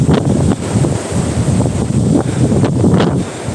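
Strong blizzard wind buffets the microphone outdoors in whiteout snow, a loud continuous rushing roar with gusty swells and no talking.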